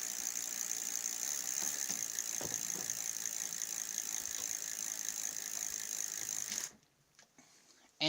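Bicycle rear wheel spinning freely, its freewheel ratchet giving a steady fast clicking buzz close by for several seconds before stopping abruptly, followed by near silence.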